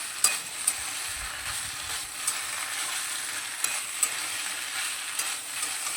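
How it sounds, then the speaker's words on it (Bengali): Soybean chunks with vegetables and spices stirred in a hot pan, a steady sizzle of frying under occasional sharp scrapes of the spatula against the pan, close and continuous, with no talking. "সয়াবিনটা দিয়ে আবারও সবজি এবং মশলাটা খুব ভালোভাবে নেড়ে চেড়ে নেব।"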